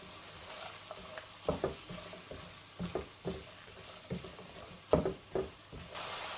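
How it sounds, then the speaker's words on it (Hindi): Chopped carrots and bell peppers cooking in a pan for egg fried rice, a soft steady sizzle broken by periodic scraping stirs and knocks of a spatula, close and moderately quiet. "कट की हुई गाजर और शिमला मिर्च है वो ऐड कर रही हूँ। अच्छे से इनको मिक्स करेंगे।"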